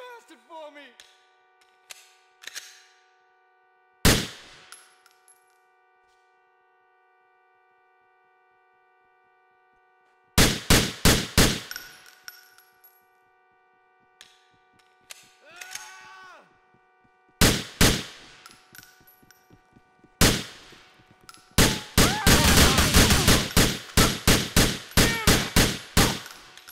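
Gunshots in a GTA IV shootout in Middle Park: loud, sharp cracks come singly and in rapid volleys, building to dense sustained fire near the end, with a tonal music bed and shouted voices between the shots.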